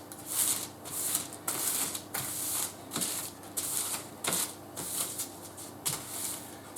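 Rhythmic scraping and rustling as old parchment paper is re-greased by hand while baking bagels, a series of brisk swipes repeating about once a second, close and fairly loud with no talk.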